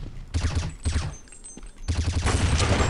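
Gunfire in the Counter Strike: Nexon Studio video game comes in two loud, close bursts of rapid shots separated by a short lull.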